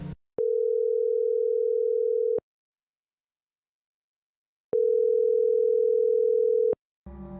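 A telephone ringback tone sounds after a call is dialed: two long, steady electronic tones, each about two seconds, separated by a long silence, with brief noise at the start and end.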